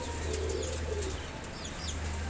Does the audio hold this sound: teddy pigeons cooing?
yes